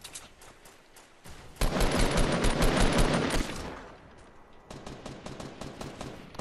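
Dense bursts of Fortnite gunfire in a PS4 duos match, a sustained close volley of rapid shots in the middle, flanked by lighter, sparser shooting before and after.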